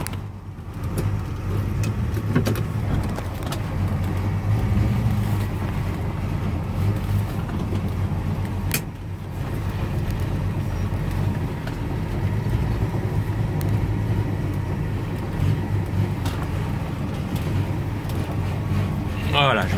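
A 1973 Dodge Dart engine runs steadily at low revs close by while reversing, a constant rumble with occasional small bumps and clicks.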